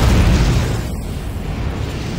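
A missile exploding in a video game team battle as one loud, close burst and rumble that fades over about two seconds, with no talking.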